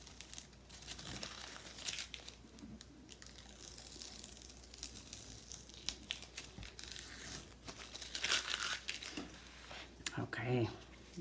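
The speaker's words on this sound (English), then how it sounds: "So we're gonna take the tape off." Masking tape is pulled slowly off paper, giving soft crinkling and tearing sounds, faint and close, with a few brief louder rips near the end.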